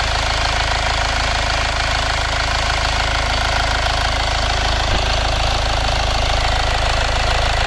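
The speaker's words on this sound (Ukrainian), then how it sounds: "Класно працює двигун." A 2011 Mitsubishi Outlander XL 2.2 DI-D diesel engine with a cast-iron block idles steadily with an even, continuous mechanical hum and a faint rhythmic knock, close to the listener and unchanging.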